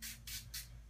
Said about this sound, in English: So you spray it on, as you noticed, generously to the point of runoff